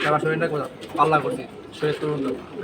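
Racing pigeons at a pigeon market, a pair of cock and hen, give low throaty coos in repeated rolling phrases close by, with a voice talking in between the calls.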